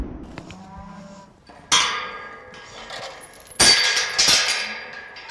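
Cattle low and moo at a farm, with two loud, drawn-out calls standing out over quieter lowing and faint clinks in the background.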